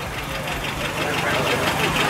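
A car's engine idles at a car meet with a loud, steady, rapid ticking knock running evenly throughout, close and continuous against outdoor background noise.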